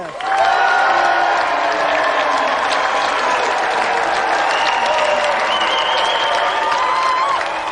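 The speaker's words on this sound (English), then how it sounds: "So let's have another round of applause for Scott Naylor" Television game show studio audience giving a loud round of applause and cheers for a contestant and a Nintendo champion, a dense, continuous burst of clapping with whoops, close and sustained throughout.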